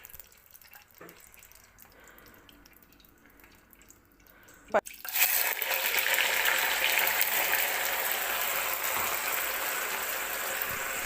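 Split field beans hit hot oil already seasoned with chilli, garlic and curry leaves, setting off a sharp crackle followed by a loud, steady sizzle that holds on; before that, only quiet kitchen sounds.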